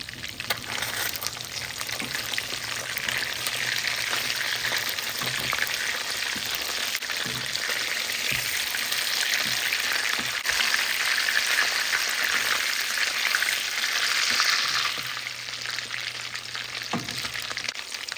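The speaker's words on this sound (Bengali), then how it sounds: "তো আমি মাছটাকে খুব ভালো করে মিডিয়াম হিটে ভেজে নিচ্ছি।" Foreign sarpunti fish frying in a pan at medium heat makes a steady, close sizzle with soft crackles and pops throughout, with no talking.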